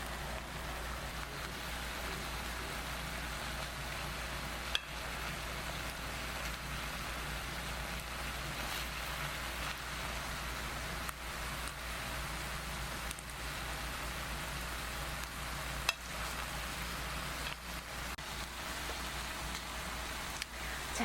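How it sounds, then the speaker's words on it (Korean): Korean galbi, braised short ribs, simmers and reduces in a pan with a quiet, steady sizzling and bubbling hiss that sounds like light rain and continues for about twenty seconds with a few small pops, with no talking. "지금은 조금만 더 졸여 볼게요."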